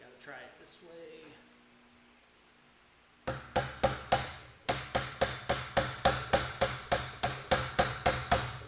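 After a quiet stretch with a faint voice, sharp metallic hammer blows ring out in a rapid, steady series, close and loud, hammering out a pin in a garage.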